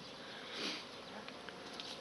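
A faint, steady drone of many honeybees buzzing around their hives in December, with occasional louder buzzes as single insects pass close by.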